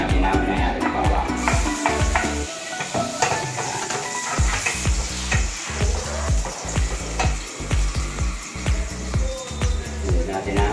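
Garlic hitting hot cooking oil while ground pork giniling is being prepared, a loud close sizzle and spatter with repeated sharp clatters of stirring against the pan.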